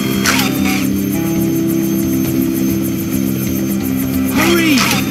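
Blades, the Rescue Bots helicopter in a Transformers video game, flies with a continuous rotor and engine hum over rescue-game music, with a speaking voice near the start and end.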